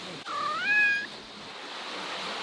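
A cat gives a single rising, drawn-out meow at close range, standing out clearly against a steady wash of background noise, with no voices over it.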